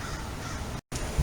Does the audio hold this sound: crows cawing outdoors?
yes